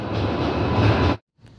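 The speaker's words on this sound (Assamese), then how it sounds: "এইফালৰ পৰা এখন বম ডাঙৰ ট্ৰেইন আছে, ট্ৰেইনৰ তলত আমি গাইছ, চাওক ট্ৰেইন চাওক" A large train rumbles loudly overhead while standing beneath it, a dense roar for over a second that cuts off abruptly, followed by faint residual noise.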